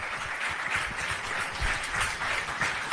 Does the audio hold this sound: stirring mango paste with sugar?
no